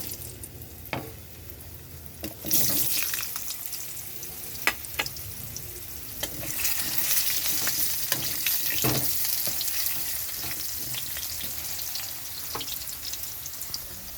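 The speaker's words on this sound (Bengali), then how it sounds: "এখানে আমি আর একটু তেল দিয়ে দিচ্ছি এখানে দিয়ে দিচ্ছি আলু" Potatoes frying in oil for a Bengali pabda fish curry: a steady close sizzle that swells and stays dense, broken by a few sharp clicks and scrapes of stirring.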